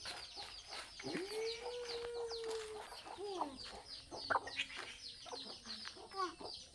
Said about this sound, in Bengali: এগুলি হচ্ছে মুরগির বাচ্চা